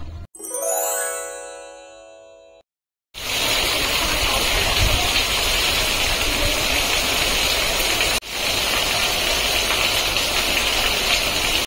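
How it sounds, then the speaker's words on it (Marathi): Steady morning rain hisses over a village during rice-planting season after a short chiming jingle, with one brief break partway through and no voices. "सकाळ सकाळ पाऊस पडायला सुरुवात झाली"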